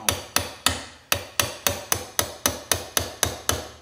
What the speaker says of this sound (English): you're gonna hammer it down.